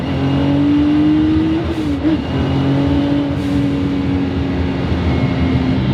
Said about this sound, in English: you have the blow-off noise of like an old tuner car